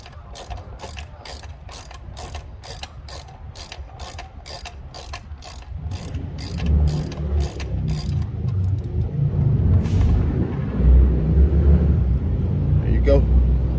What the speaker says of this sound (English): to break the nut loose, go ahead and take that all the way off.